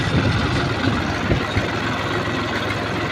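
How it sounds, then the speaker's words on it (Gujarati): A tractor engine idles on a farm, a steady low diesel rumble with a constant throb that holds unchanged throughout, close and fairly loud with no voices. "આજે હું ટ્રેક્ટર ચલાવવાની છું"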